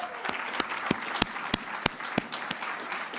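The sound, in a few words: audience applause for scholarship donors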